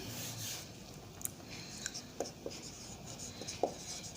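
Quiet, close scratching of writing on a board during a physics lecture, with soft strokes and a few light taps spread over several seconds against a low background hum.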